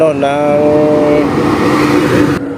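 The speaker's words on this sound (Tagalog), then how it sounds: "Maraming dump truck dito dumadaan kasi malapit ito sa sa site" A loud dump truck roars past close by on a road near a dump site, its engine note falling as it goes, with continuous road noise and a brief voice near the start.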